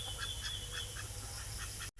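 A native domestic duck quacks repeatedly in a steady run of short calls, fairly close, over a constant low background hum.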